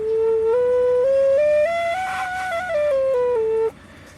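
A homemade Native American flute, carved with a hacksaw and pocket knife, plays a clear, breathy melody alone, stepping up through several sustained notes and back down before stopping abruptly.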